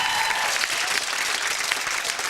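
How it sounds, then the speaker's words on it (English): A game show studio audience breaks into steady applause, a dense wash of clapping that fills the whole stretch with no voices above it. "Give a round of applause."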